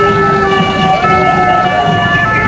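Sirens from the police escort of Cameroon's Indomitable Lions team bus arriving at the Amadou Ahidjo stadium, a loud continuous wail that stays close.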